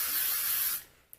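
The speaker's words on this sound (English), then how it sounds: "Then I take the spray" Hair spray hisses onto a wig's frontal hairline in one steady, close burst lasting under a second, then cuts off abruptly, followed by a tiny click.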